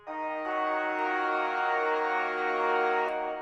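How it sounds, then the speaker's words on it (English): Cathedral organ sample played in a beat-making program for a dark trap beat, a single sustained, rich chord that holds steadily for several seconds at even volume with a slight swell near the end. "Lastly, guys, I have the Cathedral organ. It sounds like this."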